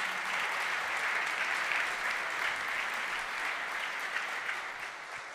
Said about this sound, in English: Can we have another really big round of applause Thank for Eben and Mishi?